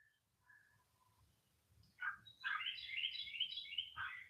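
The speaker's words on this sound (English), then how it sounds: "you hear the birds?" Birds singing in a garden, faint chirps at first, then a brighter burst of quick warbling and trills nearby, clear over a quiet low background.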